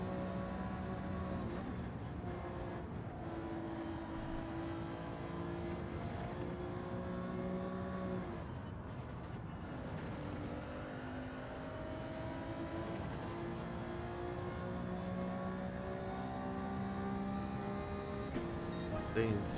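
A race car engine in a racing video game time trial drones continuously for about twenty seconds, its steady tones rising and falling in pitch as the revs change, loud and unbroken.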